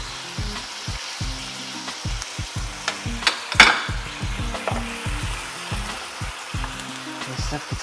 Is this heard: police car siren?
no